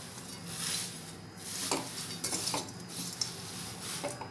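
Thin poha chivda being stirred and mixed in a pan, giving repeated metal scrapes and clinks of a spoon against the pan, with a faint crackle beneath, moderately close and with no voices.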